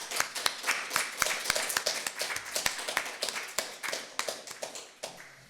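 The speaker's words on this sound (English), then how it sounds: "let's mark our appreciation by applauding." A small audience claps for the presenters at the end of a statistics seminar on randomized treatment assignments, with sparse, distinct hand claps in an uneven patter that gradually thins out.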